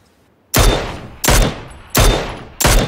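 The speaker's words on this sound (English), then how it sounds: "taking shots at a dude over on the far ridge" Gunfire in the video game PUBG Battlegrounds, four loud, heavy single shots spaced about two-thirds of a second apart, each a sharp blast with a short decaying tail.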